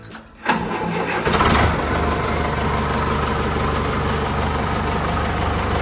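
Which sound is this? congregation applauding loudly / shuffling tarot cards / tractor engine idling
tractor engine idling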